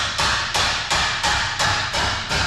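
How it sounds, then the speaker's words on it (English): Steel hammer blows on a car's front subframe in a busy repair shop, a steady series of about seven loud, ringing metallic strikes evenly spaced roughly a third of a second apart, close and unaccompanied by talk. "And there's Ryan banging away at the subframe trying to get it straight before we can fully patch it up"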